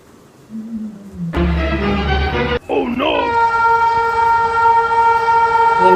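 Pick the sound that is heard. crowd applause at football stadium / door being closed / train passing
train passing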